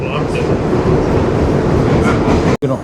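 A New York City subway train on the red line roars with a loud, continuous rumble of wheels and carriage, heard from inside the car, with a brief dropout near the end.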